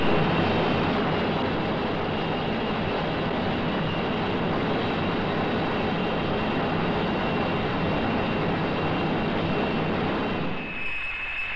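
A 1966 airliner's engines roar steadily from the cockpit during the takeoff run, a dense, loud, continuous drone that eases slightly near the end.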